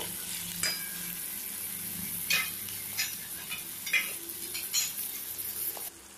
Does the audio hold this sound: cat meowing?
no